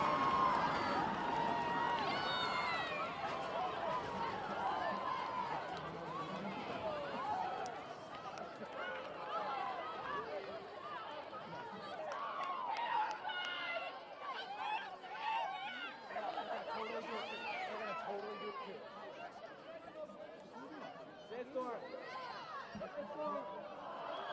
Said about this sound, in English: I can't hear myself even talk. It's pandemonium over here, John.